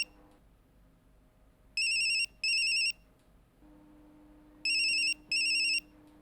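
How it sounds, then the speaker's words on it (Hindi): A mobile phone ringtone rings in two double bursts of bright, high electronic tone separated by a few seconds of quiet room hush. "पार्थो का मोबाइल"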